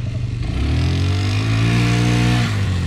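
A 4x4 off-road vehicle churns through mud, its engine revving loud and close with a steady rising drone, and no voices over it.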